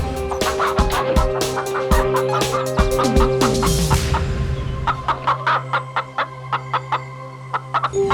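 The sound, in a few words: chickens clucking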